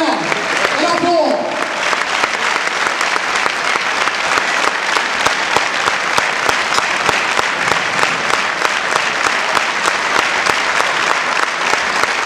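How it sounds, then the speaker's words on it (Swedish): An arena crowd at a Swedish basketball honour ceremony gives sustained, loud, dense clapping that keeps a steady rhythm from start to finish, with a brief voice right at the start. "En applåd."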